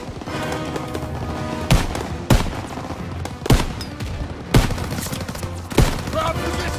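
Gunfire in the World War II shooter Call of Duty WWII, with five sharp, loud shots spaced about a second apart over a constant rumbling battle din.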